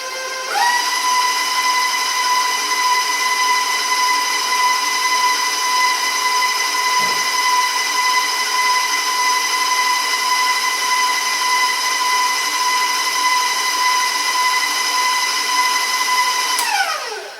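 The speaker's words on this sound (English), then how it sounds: "I'm going to mix this in, incorporate it, as they say. Start off nice and slow." Electric stand mixer on a steady low speed, blending molasses into cookie dough: a loud continuous whirring motor hum with a brief soft knock partway, then it winds down and stops at the end.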